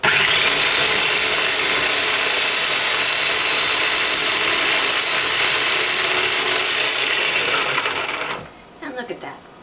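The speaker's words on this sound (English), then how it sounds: "So I go ahead and I make the onions into kind of a paste with the food processor" A food processor whirs loudly and continuously as it purees onions into a paste, then stops near the end, leaving a few faint clatters.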